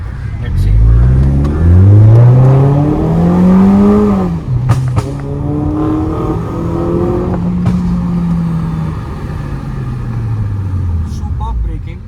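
A Mini Cooper S Countryman R60 with a 1.6 engine and Stage 1 tune accelerates hard on a pull, its engine note climbing through gears with a brief dip at a shift, loud and close, under a voice.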